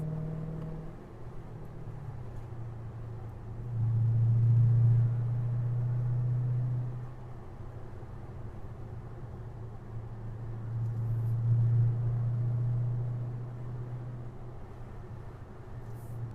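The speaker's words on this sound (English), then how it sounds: "exhaust system to get a nice deep rumble out of your Hemi" A Hemi car fitted with race bullet mufflers cruises up a two-lane canyon road, its exhaust a steady low rumble that swells twice into louder, deeper drones before settling back, heard from inside the car without talk.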